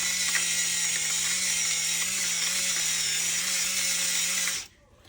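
A pepper grinder works over chicken with a continuous buzzing mechanical whir that holds steady for about four and a half seconds, then cuts off.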